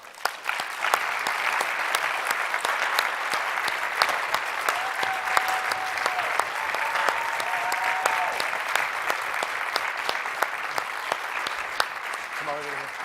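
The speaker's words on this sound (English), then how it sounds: "we should give them a huge applause." A large audience gives the volunteer team on stage sustained, dense applause that runs steadily for over twelve seconds, with a faint voice briefly heard underneath.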